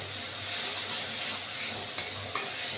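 Onion added to hot oil while cooking duck egg curry, a steady close sizzle and hiss of frying with a couple of light stirring clicks.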